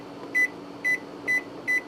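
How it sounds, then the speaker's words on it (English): A kitchen microwave oven beeps four times at a steady, even rhythm while the cook time is set, short clear tones close by over a low background hum. "So I'm going to go ahead and set my microwave for the cook time."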